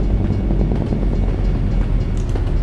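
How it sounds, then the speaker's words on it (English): An Amtrak train passes as a steady, loud low rumble with a faint rhythmic clatter, heard continuously and close. "hear a train."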